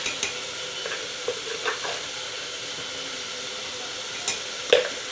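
Broccoli and carrot sautéing in a pressure cooker for pulao, a soft steady sizzle with occasional light scrapes and clinks as a spoon stirs the vegetables with salt.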